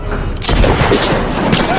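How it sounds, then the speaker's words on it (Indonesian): Loud gunfire from a sniper action film, a dense burst of sharp booming shots with heavy low rumble filling the whole stretch, close and continuous. "baku tembak pun tak terhindarkan"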